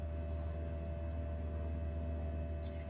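A Philips PerfectDraft home beer machine holding a 6-litre Jupiler keg runs with a steady low hum and faint electrical whine, constant and close throughout, with no voices.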